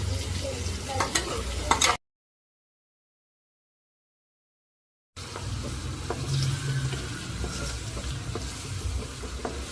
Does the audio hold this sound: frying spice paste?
yes